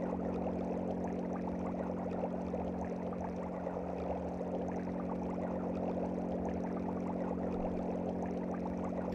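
Oil drains steadily from a tank in Resident Evil Code: Veronica X on PS2, a continuous faint pouring wash over a low steady game hum, with no talk.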